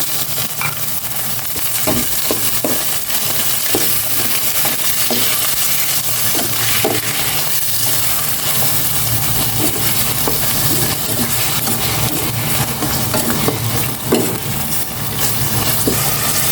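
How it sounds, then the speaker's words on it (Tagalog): Corn and onions sautéing in a pan for Filipino mung bean stew, a steady close sizzle and hiss running throughout with intermittent clicks and scrapes of stirring. "Igisa ko na itong corn."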